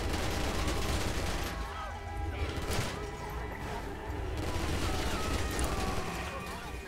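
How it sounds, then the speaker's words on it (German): Repeated gunfire in the video game GTA V on PC, bursts of shots and impacts mixed with game noise that continue throughout at a moderate level. "ich kann in der Gegend herumballern, ohne dass mir die Muni ausgeht"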